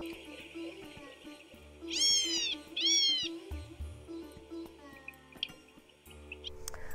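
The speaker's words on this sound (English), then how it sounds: "They have a really unique bird call that some people think sounds like a little kitten." A California gnatcatcher at the Santa Rosa Plateau gives two clear rising-falling mewing calls like a kitten, close and distinct over a steady hum of background noise, with a fainter call later.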